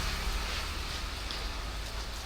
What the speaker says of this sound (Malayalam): ഇടക്ക് മഴ വരുന്നു